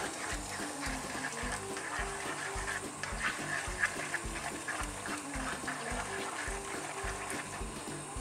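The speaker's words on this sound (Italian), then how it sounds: "Aggiungiamo un altro pochettino di acqua e lo scoliamo." Water added to cooking spaghetti and then drained produces a steady gushing splash, with rhythmic low thumps pulsing underneath throughout.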